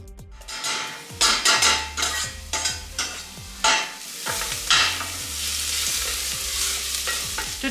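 Onion sautéing with minced garlic in a pot, a loud crackling sizzle broken by repeated clanking stirs and metal scrapes against the pot, close by with no voices.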